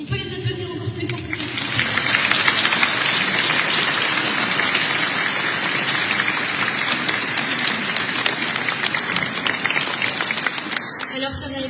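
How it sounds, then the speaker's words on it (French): An audience in a cathedral applauds a school choir of pupils, with sustained clapping that swells and holds for several seconds before tapering off, reverberant and fairly loud. "On peut les applaudir encore plus fort."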